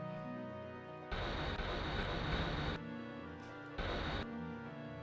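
Afterburners roar from a fighter craft in the space combat game Wing Commander, with two loud broadband bursts of thrust, one long and one short, over the steady engine hum of the game.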